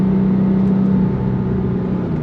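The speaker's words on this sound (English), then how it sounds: "Look at that, you just rev it all the way out. I didn't even have to downshift, and that's the beauty of that high revving flat six." Engine of a 2004 Porsche 911 GT3, a high-revving flat-six, heard from inside as a loud, steady drone with a strong low tone that eases slightly partway through, continuous and close with no talking.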